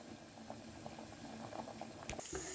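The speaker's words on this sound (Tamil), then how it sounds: "அதுக்கு நான் ஃபஸ்ட்டு பட்டாணியை உருளைக்கிழங்கு போட்டு பாயில் பண்ணிக்கிறேன்" Peas and potatoes boiling in a pot of water for samosa filling, a steady soft bubbling and popping heard up close, ending with a brief clatter of a utensil.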